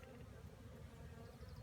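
A swarm of honey bees buzzes in a dense, steady drone, close and continuous, the hum of many wings vibrating together without a break.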